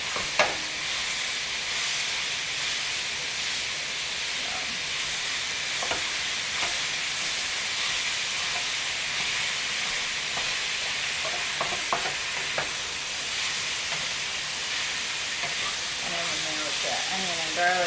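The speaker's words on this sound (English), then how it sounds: "Onion and garlic and peppers. Makes it really loud." Onion, garlic and peppers frying in a pan for lasagna give a loud, steady sizzle and hiss throughout, with occasional scrapes and clicks of stirring.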